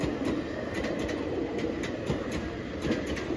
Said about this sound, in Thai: ขบวนรถธรรมดาจากปราจีนบุรีนะครับผมเข้าสถานีกรุงเทพ